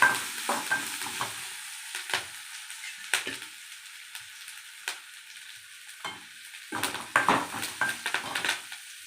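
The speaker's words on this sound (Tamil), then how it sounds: "நல்லா வதங்குது" Asafoetida sautéing in a pan for lemon rice: irregular scrapes and clinks of a spoon stirring against metal over a soft background sizzle, with busier bursts of stirring near the end and no talk.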